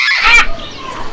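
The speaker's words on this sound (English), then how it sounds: "P for parrot." A parrot lets out a single short, harsh squawk, loud and close, which quickly fades into a faint tail.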